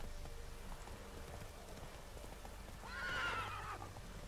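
A horse in The Witcher 3: Wild Hunt gives a single clear whinny near the end, over steady rain and a soft ambient bed.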